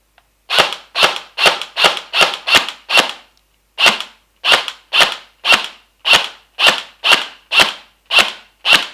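A KAC SR-25 gel blaster fires semi-auto shots: seven sharp snapping cracks in steady rhythm, a brief pause, then about eight more evenly spaced shots, loud and close with no voices.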